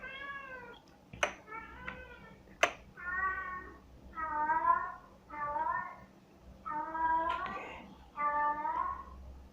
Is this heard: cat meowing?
yes